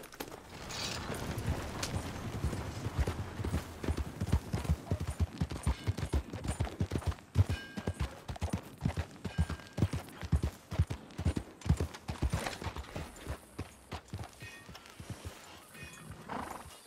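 A horse in Red Dead Redemption 2 walks with steady, rhythmic hoof clip-clops, close and fairly loud, fading toward the end with a faint whinny-like sound.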